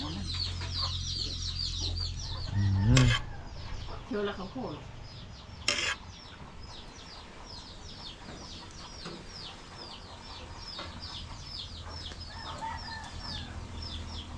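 Chickens cluck and squawk in a busy yard, birds chirping steadily overhead, with a couple of sharp knocks and brief speech partway through.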